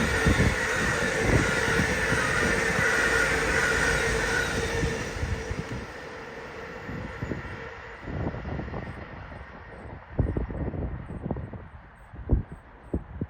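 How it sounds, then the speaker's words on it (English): An LNER Azuma train, unit 801209, bound from Edinburgh to London King's Cross, rushes through Peterborough station with a loud, steady roar and high whine that slowly fade, ending in rattling clunks of wheels over rail joints. "about to pass through, we in LNER Azuma going from Edinburgh to London King's Cross"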